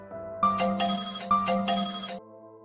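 A telephone ringtone rings unanswered, two clear ring bursts with a short pause between, loud and close, with no voices, then a lingering tone.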